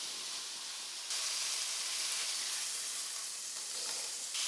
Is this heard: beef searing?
yes